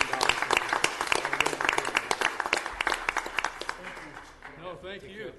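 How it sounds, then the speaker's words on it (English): Applause at a county Board of Supervisors meeting, a modest scattering of distinct claps from a small audience that thins out, giving way to nearby voices talking. "Give them a round of applause."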